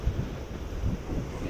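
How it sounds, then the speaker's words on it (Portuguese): A strong south wind blows across the beach at Balneário Barra do Sul under a rough sea, buffeting the microphone with loud low gusts in a brief burst. "Vento sul intenso."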